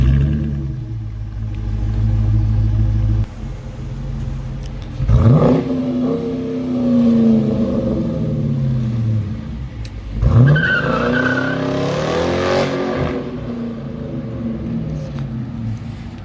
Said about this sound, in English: The exhaust is amazing.